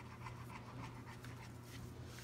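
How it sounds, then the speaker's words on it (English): A mother dog pants steadily and close by, quick rhythmic breaths running on without a break and with no talk over them. "that's a mama dog"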